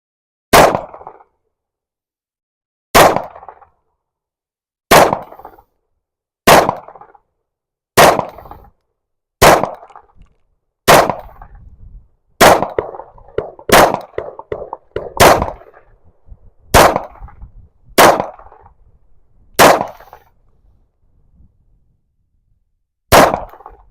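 A Shadow Systems MR920 Elite pistol fitted with a compensator fires personal defense rounds, about fifteen loud, sharp shots, spaced a second or two apart at first, then faster, with a longer gap before the final shot.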